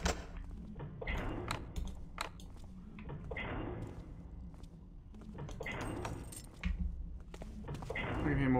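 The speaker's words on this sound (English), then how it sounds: "I can hear more footsteps." Footsteps in the stealth video game Thief: irregular, fairly near steps mixed with jangling metallic clinks and thuds, at a moderate level against a low background rumble.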